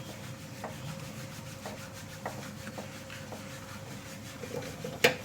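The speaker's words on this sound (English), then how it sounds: "We'll rub the kasturi methi so that it releases its flavor." Dried fenugreek leaves (kasuri methi) are rubbed between the hands over a pan while making tandoori aloo, giving a soft, steady papery rustle with faint crackles and one brief sharper click near the end.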